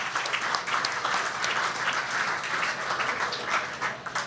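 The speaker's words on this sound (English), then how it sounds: "That deserves a big applause." An audience at a live horse racing industry talk applauds steadily, a dense, even wash of many hands clapping that holds at a constant level throughout with no voices over it.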